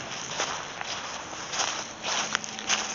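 Crunchy footsteps on frosted, icy ground, a quick run of crisp crackling steps, close and steady, with no talking.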